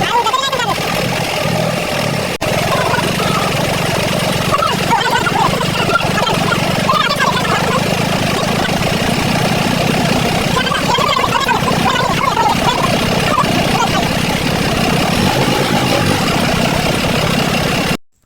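A tractor engine drones throughout at close range, loud and unbroken, with voices talking faintly over it.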